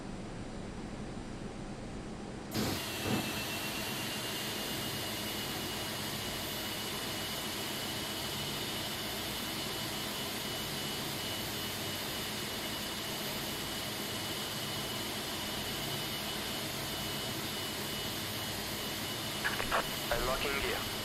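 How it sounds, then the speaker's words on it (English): A steady, even roar from the jet engines of a Brussels Airlines Airbus A330-343X running after start, heard from inside, with a sudden rise near the start and a faint clatter near the end. "Confirm good engine starts."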